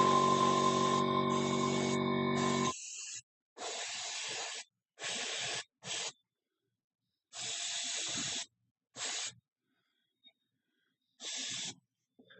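Short bursts of an airbrush or spray can laying a fine coat of black metallic paint on a miniature weapon: one long hiss, then several shorter sprays separated by silences, close and steady.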